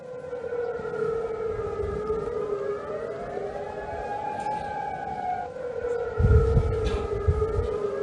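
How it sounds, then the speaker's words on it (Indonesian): An air raid warning siren wails near an air base in Jordan that hosts US military assets during an Iranian missile attack. Its steady, loud tone slowly rises and falls for eight seconds, with a low rumble near the end. "memicu aktivasi sirene peringatan serangan udara di sekitar pangkalan"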